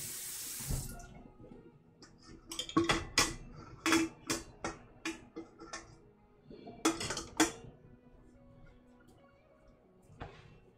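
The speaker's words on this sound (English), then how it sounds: "Don't have the luxuries of a dishwasher here, so I wash all my own dishes" Dishes are washed by hand at a kitchen sink. A running tap gushes in bursts while plates and utensils clink and knock between rinses, close by and without speech.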